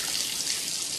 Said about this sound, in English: Water is ejected